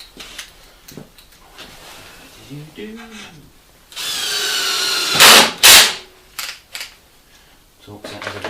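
Cordless power drill driving screws into wood for a homemade trailer build, with a long sustained whine followed by several short bursts of the motor, close by amid workshop clatter.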